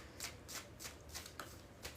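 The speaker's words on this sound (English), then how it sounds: "We need 3 more shuffles for the Aries Collective" Tarot cards shuffled by hand for a reading, a steady run of quick riffling bursts, soft and close with no talking.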